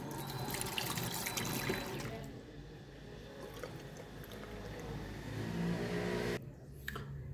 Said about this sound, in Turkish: Şimdi yüzümü yıkadım.